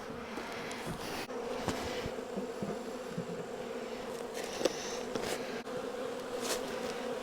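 Honey bee swarm buzzing continuously and steadily around the listener, a dense close hum with occasional louder individual bees passing.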